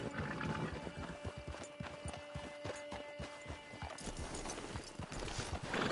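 Horse hooves clip-clop in a steady rapid rhythm in a video game, a continuous run of hoof beats over ambient game sound, with a brief whinny-like tone mixed in.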